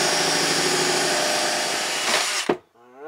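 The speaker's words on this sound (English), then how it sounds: "So I gotta drill out some holes down here" Power drill boring holes for hot and cold PEX plumbing lines in an Airstream bathroom, a loud continuous whirring grind for over two seconds that ends abruptly as the bit breaks through, followed by near quiet.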